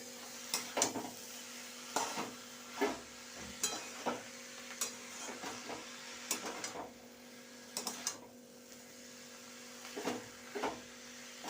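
Figs with gandal leaves and vegetables sauté in a pan with a low continuous sizzle, broken by regular close spatula scrapes and knocks against the pan about once a second, quiet and free of talk.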